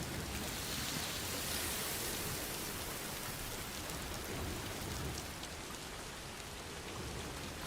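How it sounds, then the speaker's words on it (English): Steady rain falls across the whole stretch in the video game Death Stranding 2, a dense, even hiss of drops on surfaces with no talk over it. "It started to rain."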